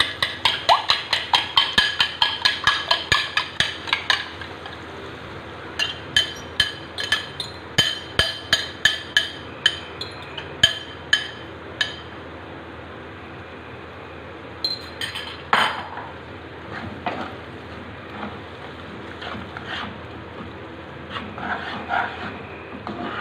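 Eggs are stirred in a pan for khagina, a metal utensil clinking and scraping against the pan in quick rhythmic taps that pause and return.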